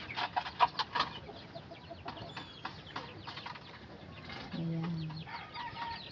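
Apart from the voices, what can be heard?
chickens clucking near a chicken coop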